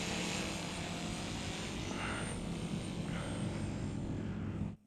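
An RC model V-22 Osprey tiltrotor takes off and flies fast, half tilted forward, giving a steady, loud rotor and motor drone that holds for about five seconds before cutting off abruptly.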